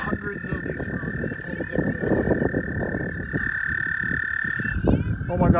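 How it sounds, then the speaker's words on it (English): Many frogs croak at once in a thick, continuous chorus close by, overlapping rasping calls with a steady high whine beneath, and faint human voices mixed in. "There's like 10 frogs here."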